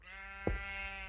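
A Minecraft sheep gives one short, clear bleat over a steady droning music backdrop.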